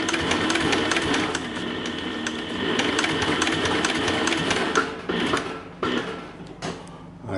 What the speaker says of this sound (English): now I'll do a few stitches and it'll be a fair bit wider